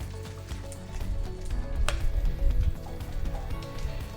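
Veal shanks for osso buco searing in a sauté pan, a loud close sizzle with crackling spits and occasional bumps of the pan, continuing without talk.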